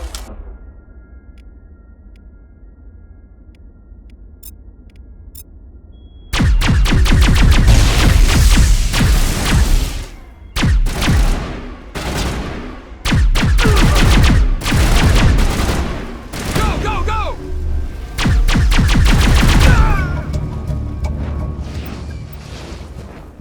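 Heavy gunfire from a firefight in Mass Effect Legendary Edition, loud rapid bursts and volleys erupting suddenly after a quiet stretch and continuing densely, with brief pauses between salvos.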